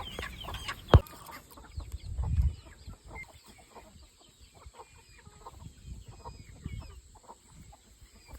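Free-range native chickens cluck softly in an outdoor farm yard, with scattered faint calls and a sharp knock early on over low background noise.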